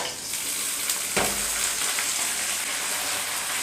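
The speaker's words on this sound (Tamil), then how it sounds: "முருங்கைக்கீரை சேர்த்துட்டு நல்லா கலந்து விட்டுறலாம்." Drumstick leaves being sautéed with small onions in a pan for murungai keerai sambar, a steady close hiss and sizzle with a brief stirring scrape partway through, no voices.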